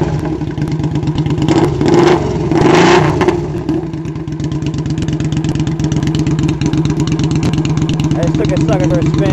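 A Triumph America motorcycle fitted with aftermarket muffled exhaust pipes runs loud and close, with a steady pulsing idle that swells into brief revs. Voices talk over it.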